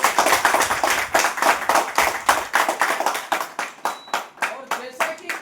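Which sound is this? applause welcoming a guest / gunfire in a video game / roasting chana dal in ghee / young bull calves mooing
applause welcoming a guest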